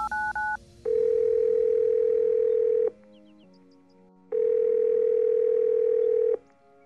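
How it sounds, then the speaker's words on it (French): Telephone call placed to a friend: brief dialing beeps, then two long steady ringback tones separated by a pause, clear and close. "t'appelles d'abord Lara et après Lisa"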